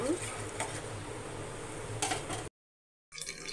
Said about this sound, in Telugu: పోపు గింజలు మంచిగా ఫ్రై అయినాయి